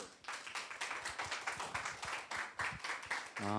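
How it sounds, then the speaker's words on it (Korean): A church congregation at a Sunday worship service claps steadily in welcome of a visiting pastor, a dense, moderately close round of applause that fades as a voice begins at the very end. "우리 박수로 맞이할까요?"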